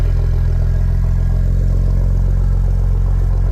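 A 2025 Ford Explorer ST with an MBRP aftermarket exhaust idles steadily with a deep, throaty, heavy low rumble and a faint mechanical clatter, loud and close, with no talking.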